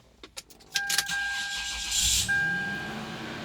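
A 1999 Toyota 4Runner Limited starts up close by: a few clicks and key sounds, a short cranking whir with a dashboard chime, then the engine catches and settles into a steady idle.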